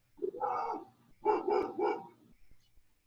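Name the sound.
dog barking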